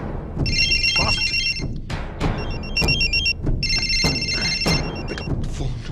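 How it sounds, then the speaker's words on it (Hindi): A phone ringtone trills in repeated electronic bursts, three main rings separated by short gaps, heard over background noise. "Pick up phone."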